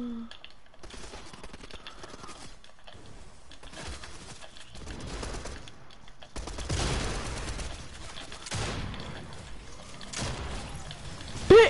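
Video game gunfire crackles in bursts of rapid shots, some sparse and some dense, rising louder around the middle as faint voices talk beneath.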